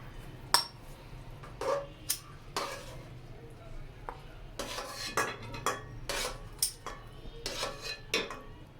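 Cooked chicken being lifted out of a pot of simmering stock, with repeated close metallic clanks and scrapes of a utensil against the pot, irregular and fairly loud, over a low background hum.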